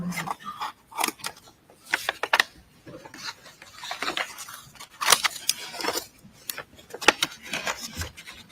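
A pair of scissors makes repeated short snips and scrapes as it cuts open a package in a courtroom, the crisp bursts arriving at an irregular pace with brief pauses between them.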